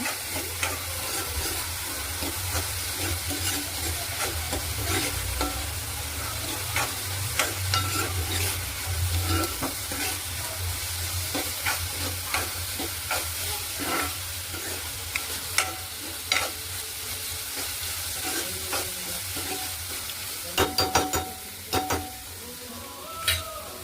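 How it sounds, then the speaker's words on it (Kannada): Turmeric and chilli powder fry in an oiled pan for a Malabar spinach dish, giving a steady close sizzle with repeated spoon scrapes and stirring, plus a few sharp utensil clinks toward the end. "ಅದ್ರ ಜೊತೆಗೆ ಈ ಅರಿಶಿನ ಮತ್ತು ಚಿಲ್ಲಿ ಪೌಡರ್ ಹಾಕ್ತಿದ್ದೀನಿ. ಫ್ರೈ ಮಾಡ್ತೀನಿ."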